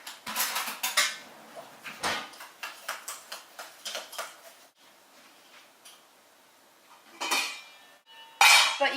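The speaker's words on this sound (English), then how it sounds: "we're just going to mix this all up together and we're going to stick it in to our cherry mixture" A utensil clinks and scrapes rhythmically in a small bowl, mixing a vanilla extract blend for a cherry pie filling; bursts of quick taps close up, separated by quiet pauses.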